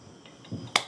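A single sharp hand clap, a close, crisp smack near the end of an otherwise quiet moment.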